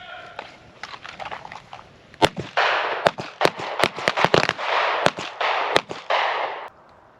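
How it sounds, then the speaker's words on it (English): A gun fired on a shooting range fire line: a rapid string of sharp, loud bangs, each followed by a burst of hissing noise, with a couple of spaced-out cracks at the start and end. "We're going to fire 1 round center mass, 1 round center mass."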